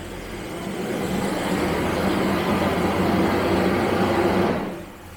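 An old Jaguar V12 idling steadily right after starting, a dense continuous engine rumble close by that drops away abruptly near the end.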